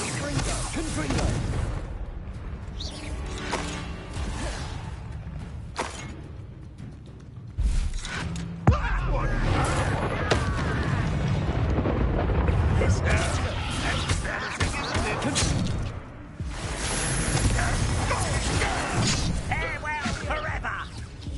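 Confringo fire-blast spell bursts and crashes amid busy combat in the Hogwarts Legacy video game, with heavy thumps and slams over a dense bed of game sound and a voice speaking at times.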